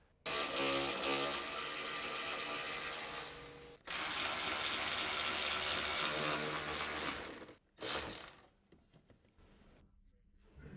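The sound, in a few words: removing radiator support mounting bolts with a wrench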